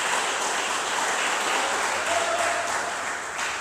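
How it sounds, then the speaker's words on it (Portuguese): A church congregation gives a round of applause, a loud, continuous wash of many hands clapping together close by, holding steady throughout, with a faint tone briefly audible. "dê uma salva de palmas para Jesus"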